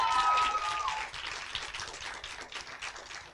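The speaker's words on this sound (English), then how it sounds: "A huge round of applause to all the speakers today," An audience at a youth TEDx event applauds the day's speakers, a dense, close wash of clapping that starts loud and slowly fades over a few seconds.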